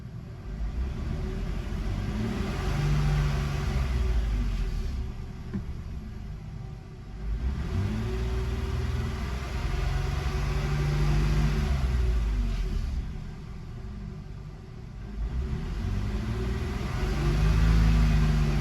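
A Nissan VG33 engine in a warmed-up truck revs to about 2,000 RPM two or three times, the steady rumble rising and falling in broad swells, loud and close, with no talking.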